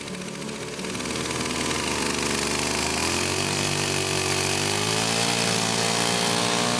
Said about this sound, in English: The chain's still sharp, so I cut through in one go.